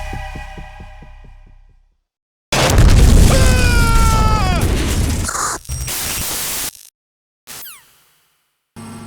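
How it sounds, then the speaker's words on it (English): A loud booming explosion in Metal Gear Solid 2 erupts after a rhythmic pulsing lead-in, a sustained heavy roar with tonal sweeps, followed by short bursts of game effects separated by silence. "we heard him explode"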